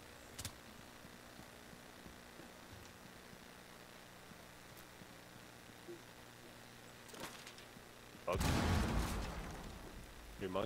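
A grenade blast in the Rainbow Six Siege video game bursts loud and broad near the end, rumbling for a second or two after quiet game ambience with faint scattered clicks.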